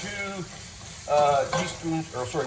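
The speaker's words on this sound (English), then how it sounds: "Now everything is starting to fry." Spices, dried herbs, bay leaves and a Parmesan rind frying in a soup pot for minestrone make a soft sizzling hiss under a voice talking over it.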